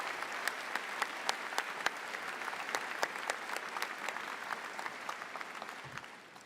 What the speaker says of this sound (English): I ask that you join me in a round of applause for all those wonderful people who helped get you